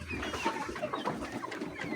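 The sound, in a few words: chickens clucking in poultry house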